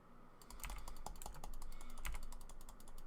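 Rapid computer keyboard and mouse clicking during a session of Elder Scrolls Online, a steady close run of crisp taps and clicks with no talking.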